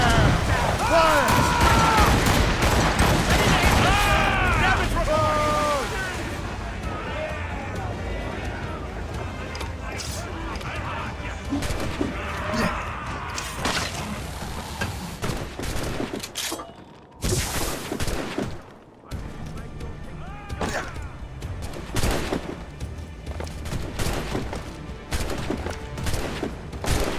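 Naval cannon fire from ships in Assassin's Creed Rogue, a dense, loud, continuous battle roar with booming volleys, shouting voices layered over the din.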